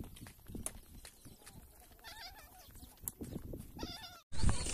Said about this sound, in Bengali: ছাগলের ডাক আসছে